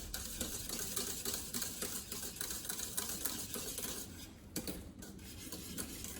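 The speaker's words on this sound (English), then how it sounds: "So I'm going to continue to stir this for another 5 or so minutes" A chickpea flour mixture for panisse being whisked in a pot, with quick, rhythmic scraping and tapping strokes heard close and fairly faint, pausing briefly before resuming.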